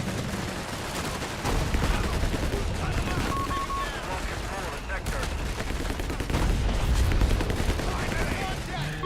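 Off-map artillery strike in a World War II strategy game, dense rolling volleys of gunfire and booming impacts filling the whole stretch, loud and continuous with machine-gun rattle mixed in.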